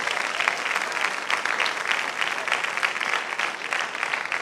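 A church congregation applauds steadily at an early-morning Quadrangular service, dense clapping that fills the room evenly for several seconds with no voice over it.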